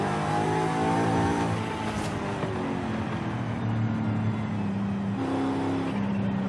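Simulated car engine from Forza Horizon 5, driven on a drag suspension setup during a race through Mexico, drones steadily and loudly throughout with rising and falling rev tones, no talking over it.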